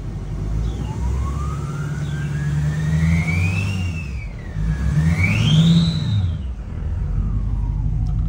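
A loud Duramax diesel pickup with a stainless drop-in five-blade turbo runs steadily, its deep engine rumble joined by a rising and falling turbo whistle that sweeps up and down across several seconds.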